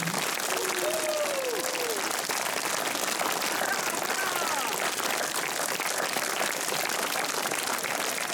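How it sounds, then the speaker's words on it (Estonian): A crowd applauds at an evening of songs, continuous dense clapping filling the whole stretch at steady loudness, with faint voices and a brief whistle-like tone near the start. "Kui veel plaksutate käsi, püüdlik Robin ka ei väsi."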